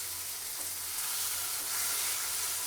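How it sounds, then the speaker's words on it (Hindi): Mashed eggplant for baingan bharta being stirred and fried in a pan, with a steady soft sizzle and faint scraping, no talk. "बिल्कुल ऐसे ऐसे भूनना है आपको कि एकदम डो बन जाए बैगन के भरते का"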